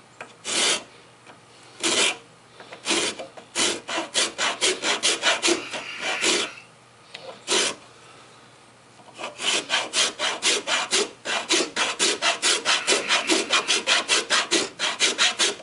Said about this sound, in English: I'm going to put a little more pressure on the rasp this way